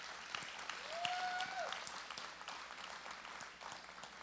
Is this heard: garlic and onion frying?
no